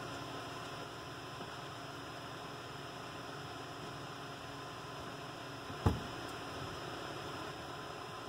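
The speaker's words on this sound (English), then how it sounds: "Blower's on." The HVAC blower fan of a Chevy 2500 pickup runs inside the cab as a quiet, steady broadband hum, broken once by a short thump near the end.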